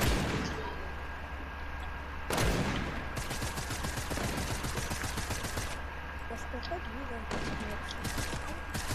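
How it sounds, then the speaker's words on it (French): Rapid bursts of gunfire from a Fortnite Prop Hunt match, overlapping shots and volleys filling the whole stretch at steady loudness, with a sharp louder burst near the start and voices talking underneath. "on tire sur les trucs où tu entends des bruits"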